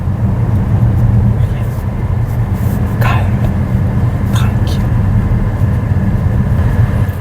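Changan Deepal S7 driving at speed: steady low road and wind rumble fills the cabin throughout, with a couple of brief faint ticks over the constant drone.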